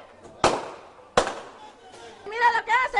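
Two sharp gunshots fired into the air by police in a residential passage in El Callao, loud and close and about a second apart, followed by shouting voices.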